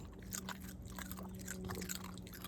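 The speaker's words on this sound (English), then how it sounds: "Okay, Mika, let me hear you crunch." A dog crunches and chews dry food close by, with a quick run of crisp, irregular bites over a quiet background.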